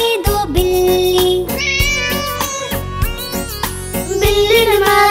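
A Hindi children's song features loud, melodic cat-like meows over a bright musical backing, several drawn-out calls in sequence.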